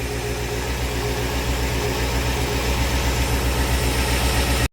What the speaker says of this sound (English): while I'm letting the engine warm up